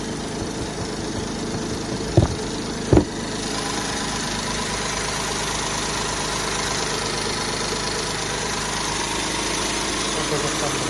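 A 2015 Hyundai Grandeur HG with a 3.0-litre petrol engine idles with a steady low rumble throughout, broken early by two sharp knocks.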